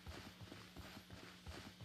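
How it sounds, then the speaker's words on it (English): A creature in the horror game Pacify makes a horse-like clip-clop, a faint, steady run of hollow thudding steps repeating several times in a quick rhythm. "He sounds like a horse."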